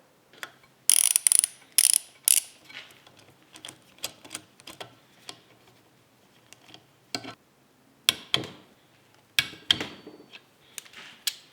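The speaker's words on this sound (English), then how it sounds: "we're going to first initially tighten this to 15 foot-pounds of torque" Torque wrench clicking and ratcheting while cylinder head bolts are tightened to an initial torque during cylinder head reassembly: sharp, close mechanical clicks in small bursts separated by quiet gaps, with no talking.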